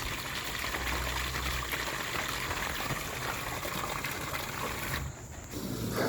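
Water rushes steadily from a pipe into an underground bunker's supply, a continuous gushing flow that briefly drops off near the end before surging again, with no voices.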